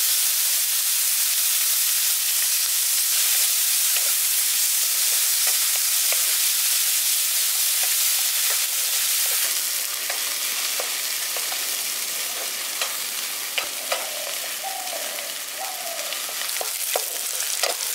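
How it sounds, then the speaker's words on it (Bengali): Sliced onions fry in hot oil in a pan for a village-style carp curry, giving a steady loud sizzle and hiss with occasional stirring clicks throughout. "পেঁয়াজটা এখানে দেখুন লালচে করে আমি ভেজে নিয়েছি"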